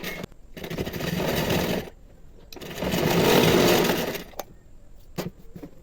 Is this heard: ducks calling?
no